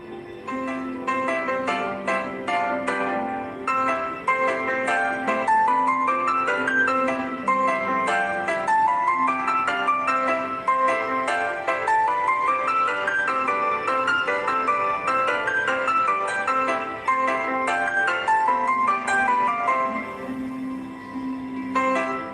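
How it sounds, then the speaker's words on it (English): A melodic alarm tone ringing, a bright looping electronic tune of quick rising and falling notes that repeats steadily and loudly for the whole stretch, no talking. "My alarm is ringing 10 minutes."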